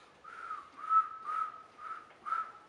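A single person whistles a simple melody in a few short phrases, clear and close, with brief pauses between them and no talking.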